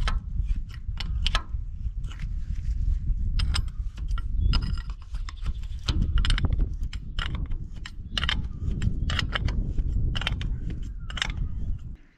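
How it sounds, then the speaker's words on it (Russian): Bolts on the front axle of an MTZ-82 tractor are tightened hard one after another, producing repeated close metallic ratcheting clicks and clanks in irregular bursts over about twelve seconds, with no talking. "После чего последовательно эти болты затягиваем, что есть мочи, что есть сил."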